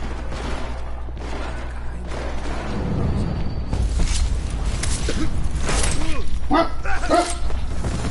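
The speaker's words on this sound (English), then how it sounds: "Sorry about my dogs, guys." Dogs barking inside a Deus Ex: Mankind Divided game scene, a few sharp barks and yips rising in the second half over a low mechanical hum, with a voice speaking briefly.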